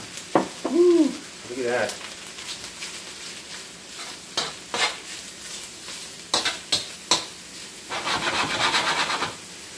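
Beef stir-frying in a hot, smoking wok, with bursts of sizzling and sharp spatula scrapes coming in separate spurts, and a person talking briefly near the start.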